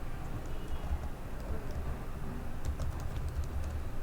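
Computer keyboard typing, light irregular key clicks over a steady low background hum, becoming a quick flurry of taps near the end, with no talk.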